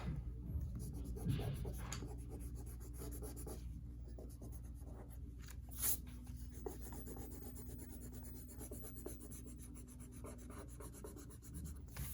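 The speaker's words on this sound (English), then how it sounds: "Let's erase that." An eraser rubs steadily over pencil marks on a chibi-style drawing of Ariel, a soft continuous scrubbing rasp lasting the whole stretch, close and quiet with no talking.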